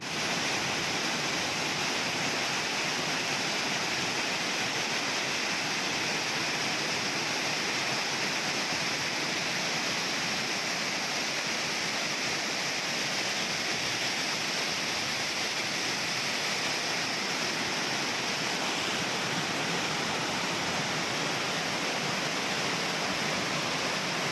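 Water pours over the overflow at Jayyaram Pedda Cheruvu lake, a steady, dense roar of rushing water that stays continuous and even throughout, close and loud.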